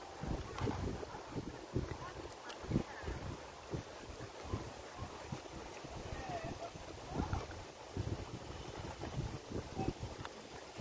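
Gusty wind buffets the microphone at Stockton Park in Jacksonville, low rumbling bursts coming and going, with people's voices heard intermittently beneath it.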